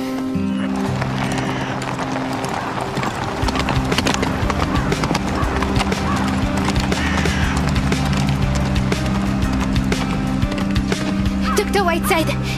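Steady horse hoofbeats clip-clop close by in an animated series, with a horse snorting and whinnying over a continuous low background drone.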